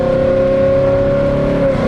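Supercharged Stage 2 Whipple 2024 Mustang GT accelerating hard at part throttle with its tires breaking loose, a loud, steady engine roar with a strong sustained whine held close throughout.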